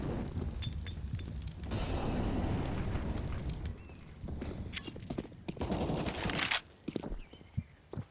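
Gunfire in CS:GO during a competitive match on the Inferno map, bursts of rapid shots and footsteps amid game noise, varying from dense volleys to sparse single shots.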